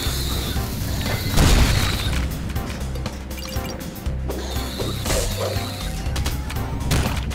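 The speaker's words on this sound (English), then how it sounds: "there's a trophy where apparently if I could kill three enemies with one bomb bolt" Bomb bolt explosions in the first-person shooter Ion Fury: heavy booming blasts and crashing impacts amid continuous game action, fairly loud and dense, with a few sharper hits scattered through.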